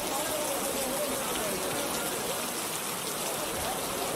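Rain pours down in an animated cartoon scene, a dense unbroken hiss of falling water that stays loud and even from start to finish, with no clear speech.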